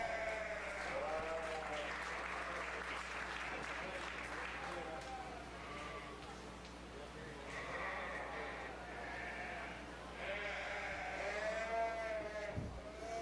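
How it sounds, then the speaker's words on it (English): Steady applause from a crowd at a 4-H fair sheep show fills the space while sheep bleat and a voice carries over it, with background chatter throughout. "Let's give them a round of applause"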